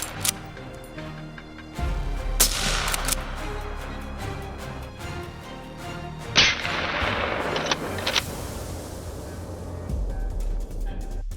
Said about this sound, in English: The moment his prey came into view, rapid gunfire erupted,